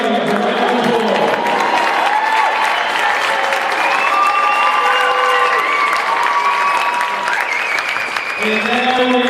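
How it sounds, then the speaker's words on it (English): A crowd at a high school boys basketball final applauds and cheers for the St. Joseph Varsity Vikings, loud sustained clapping with shouts and voices on top and a brief dip near the end. "Ladies and gentlemen, a round of applause for St. Joseph Varsity Vikings."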